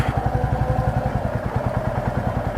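A motorcycle engine runs steadily as the bike picks up a little speed during a beginner riding lesson, with a loud, close, even pulsing beat and no voice over it.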